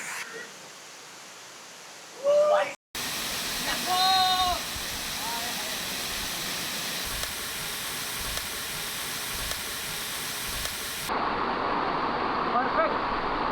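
Broad steady rushing of a waterfall on a monsoon trek, loud and continuous for most of the stretch, with brief voices and an abrupt cut before the roar resumes and swells near the end.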